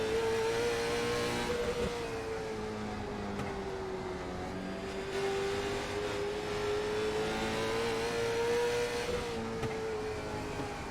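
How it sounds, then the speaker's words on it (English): A late model stock car in a racing video game at Hickory Motor Speedway drones loudly and steadily, its engine pitch rising and falling in slow throttle swells over the whole stretch. "Listen to this throttle rhythm he's got going on."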